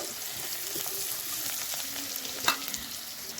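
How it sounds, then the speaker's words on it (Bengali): Onion and garlic frying in a pan make a soft, continuous sizzle with a few faint stirring clicks, quiet and close, with no voices. "দেখুন পেঁয়াজ আর রসুনটা হালকা করে হালকা বাদামি ভাজা হয়ে গেছে"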